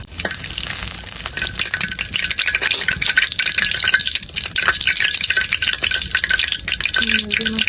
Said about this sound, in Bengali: রান্না করবো তার জন্য তেল গরম করে একটু এলাচ দারচিনি দিয়ে দিচ্ছি